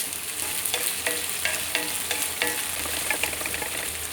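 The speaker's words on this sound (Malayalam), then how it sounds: "അതിലേക്ക് നമ്മൾക്ക് ഇഞ്ചിയും വെളുത്തുള്ളിയും ഇട്ട് കൊടുക്കാം ഇനി നമ്മൾക്ക് ചെറിയ ഉള്ളി ചേർത്തി കൊടുക്കാം" Ginger, garlic and shallots fry in coconut oil for a jackfruit curry, a loud constant sizzle punctuated by regular scraping strokes of a spoon stirring the pan.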